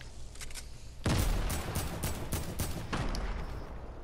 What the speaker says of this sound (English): Oh, Nathan has a shotgun now.